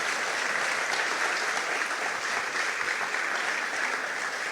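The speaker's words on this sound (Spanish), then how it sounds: "Dale un aplauso a tu Rey." A church congregation breaks into dense, steady applause that stays even and fairly loud from start to finish, with many hands clapping together and no voice on top.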